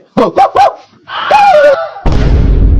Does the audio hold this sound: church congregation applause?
no